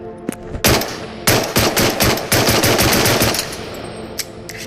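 Unsuppressed rifle fire from the video game Into the Radius, a few single loud cracks followed by a rapid burst of shots in quick succession, then a couple of trailing shots.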